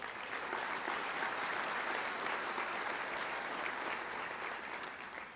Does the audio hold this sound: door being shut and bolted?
no